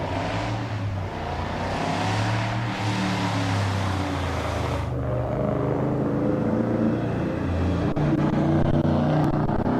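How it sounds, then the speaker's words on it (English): A 1978 Holden Aussie muscle car racing up a hill at a Mt Lofty hillclimb, its engine a loud, deep, sustained rumble that swells and shifts as it climbs, no talk over it. "John Crabb at the wheel of the iconic Aussie muscle car. Be a really tricky car to manhandle up this hill."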